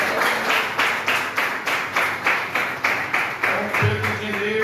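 A church congregation claps in unison, a loud, even rhythm of roughly two claps per second repeating steadily, with a low thump near the end.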